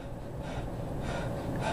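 Heavy, forceful breathing from a person working a MedX leg press machine, a close, loud gasping breath with no talking.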